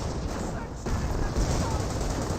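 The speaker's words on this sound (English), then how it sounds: "Here comes the next barrage." Artillery barrage in Company of Heroes, a continuous rumbling wash of distant shelling and crackling fire with a sudden swell partway through, dense and sustained rather than distinct single blasts.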